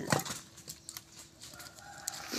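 Several chickens cluck in short, scattered bursts close by, with one louder squawk near the start and softer clucks trailing across the stretch over a quiet farmyard background.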